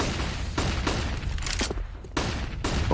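Several flashbang grenades burst in quick succession during a professional Counter-Strike match, BIG vs Vitality at DreamHack Open Fall 2020, as loud sharp pops over a dense, continuous din of game noise.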